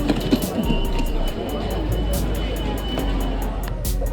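Steady low rumble of a moving train from Schiphol airport to central Amsterdam, with a broad hiss of carriage noise and a voice talking over it.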